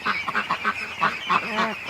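Ducks quack and honk loudly at close range in a quick, uneven run of calls, with no voice over the flock.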